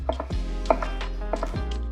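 Chef's knife chopping vegetables on a board, three or four sharp, close knocks spaced about half a second apart over a low steady hum, with no talking.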